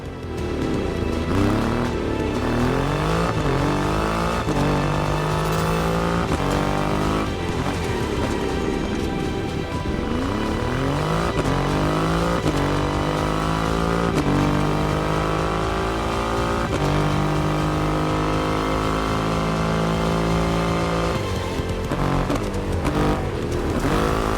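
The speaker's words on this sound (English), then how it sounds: "An extreme motorcycle with a huge presence. A Triumph bike through and through." A Triumph motorcycle with a 2.5-liter engine revs and accelerates loudly, its engine note rising and falling through repeated gear changes, steady and close with no talking.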